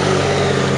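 A Detroit two-stroke diesel in a Freightliner fire truck from Montreal runs in a short, steady, loud drone with a low, even rumble and no pauses.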